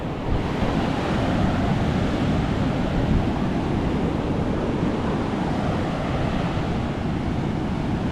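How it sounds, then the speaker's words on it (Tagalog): Strong ocean surf crashes and churns on a beach in a loud, unbroken roar, with heavy wind buffeting the microphone throughout. "Kumbaga yung alon nakakatakot."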